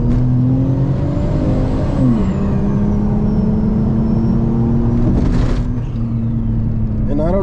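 A 2JZ-swapped turbocharged Chrysler 300 pulls hard in first gear, its loud, close engine drone climbing steadily in pitch with a faint whine laid over the roar.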